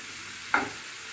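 Onions being stirred in a pan while frying for mushroom palya, a brief soft scrape and sizzle over a steady low hiss.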